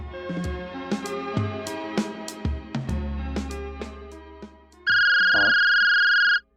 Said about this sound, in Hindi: अभिषेक को लगाता हूँ फोन।